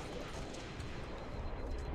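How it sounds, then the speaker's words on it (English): Continuous enemy gunfire in Halo: Reach, a dense, rumbling barrage of shots that keeps up for the whole moment with no clear gaps between them. "Who's still shooting at me?"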